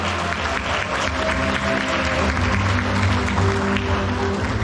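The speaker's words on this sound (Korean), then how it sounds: "김선주 작가님께 다시 한번 큰 박수 부탁드립니다." Audience applause for the artist at an exhibition opening at a provincial art museum, a steady dense wash of clapping sustained throughout with low hum and faint crowd murmur beneath.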